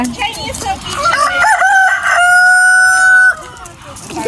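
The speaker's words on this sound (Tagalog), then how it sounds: "Chinese silky chicken, sila po ay mga black meat." Rooster of the Chinese Silkie breed crowing once, a loud, drawn-out cock-a-doodle-doo up close. The final note is held long, and faint voices can be heard around it.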